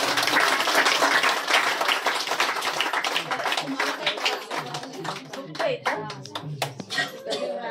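Clapping in praise at a church prayer meeting, a burst of many hands clapping that turns sparser and more irregular, with voices, including a child's, talking over it.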